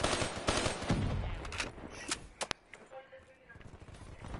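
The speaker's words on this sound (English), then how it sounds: "People shooting at you!" Gunfire in Black Ops 3, rapid automatic bursts and sharp shots, with close and more distant reports mixed together over game sounds and players talking.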